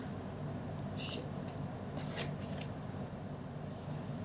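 Tarot cards are shuffled and drawn, with soft papery riffling bursts and flicks heard close up over a quiet steady background hum.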